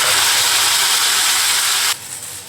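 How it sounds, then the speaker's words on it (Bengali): Washed okra slides into hot oil in a kadai, setting off a loud, dense sizzle that holds steady and then drops abruptly to a quieter bubbling. "আমি ধুয়ে রেখেছি ভেন্ডিগুলোকে তেলের মধ্যে ছেড়ে দেবো।"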